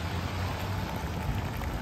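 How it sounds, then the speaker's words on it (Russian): A small public fountain in Zürich splashes steadily, a continuous close wash of falling water with no voices over it. "Вот еще фонтанчик."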